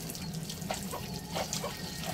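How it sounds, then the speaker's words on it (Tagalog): Fresh water is sprayed into a shrimp fishpond, making a faint, steady hiss and splash of falling water over a low continuous hum, with no voices. "dinadagdagan ng tubig tabang. Pinapaulan nila."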